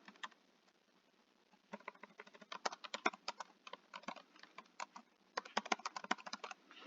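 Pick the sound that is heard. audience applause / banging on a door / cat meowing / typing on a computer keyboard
typing on a computer keyboard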